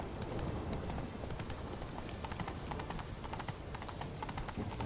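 Hooves of Roach, a horse in The Witcher 3, clip-clop in a quick steady rhythm, close and continuous over ambient game sound.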